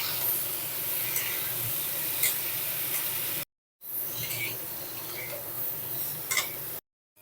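Potatoes and cauliflower fry together in one kadai, giving a steady close sizzle and hiss with occasional stirring scrapes, broken by two short silent gaps.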